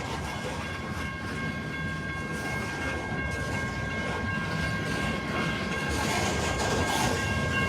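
A long freight train of the Paducah and Louisville Railway rolls past close by, a loud continuous rumble of wheels and cars with steady tonal squeals over it.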